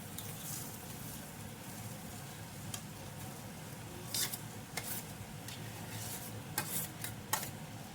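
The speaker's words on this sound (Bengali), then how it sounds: "এবার একসাথে মশলা আর আলুটাকে কষানো হবে।" Boiled, mashed potato is sautéed with spices, including Kashmiri red chilli powder, in a pan for potato chops; a continuous close sizzle runs under repeated scraping and clinks of a spatula against the pan.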